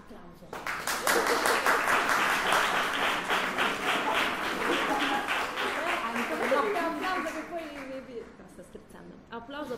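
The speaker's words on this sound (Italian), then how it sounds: "Applauso." An audience at a literary event applauds for several seconds in a dense wash of clapping. The clapping swells quickly, holds steady, then thins out, and some voices are audible beneath it.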